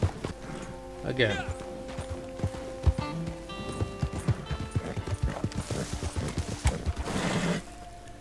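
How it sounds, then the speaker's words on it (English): In the Red Dead Online video game, a horse's hooves clip-clop rhythmically with a brief whinny as it skids, while someone talks over the sounds. "Shift and control at the same time will cause the horse to skid"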